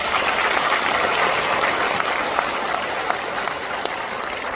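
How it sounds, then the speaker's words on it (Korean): Sustained applause from a large crowd at the launch ceremony of Gangwon Special Self-Governing Province, dense clapping going on steadily throughout. "여러분 큰 박수 보내주시기 바랍니다."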